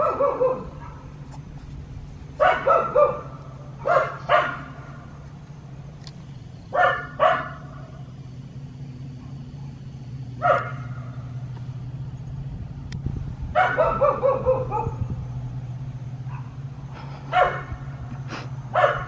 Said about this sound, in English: She's getting such a deep bark now.